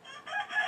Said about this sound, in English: The chickens are roosting again.